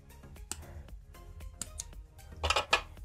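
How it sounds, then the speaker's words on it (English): Scissors cutting brown yarn, a few quiet snips and clicks separated by pauses, with a sharper pair of cuts near the end. "Once you've reached the end, you can cut the brown 4 yarn,"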